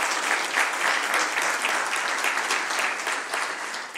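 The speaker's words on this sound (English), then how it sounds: "Please help me give Dr. Phumzile another round of applause." A conference audience gives a speaker a round of applause, dense even clapping from many hands that holds strong and tapers slightly at the end.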